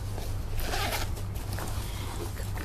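Zipper on a zip compartment of a BTS FILA collaboration bag being pulled open, a steady close rasping run lasting a few seconds with no talk over it.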